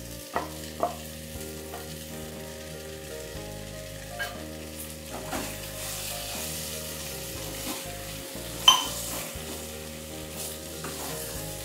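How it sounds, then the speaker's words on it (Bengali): Potatoes cooking with spices in a small amount of oil, a low sizzle broken by sharp scrapes and clatters of a spatula being stirred through the pan. No one speaks. "মশলার সাথে আলুগুলো ভালো করে কষিয়ে নিচ্ছি"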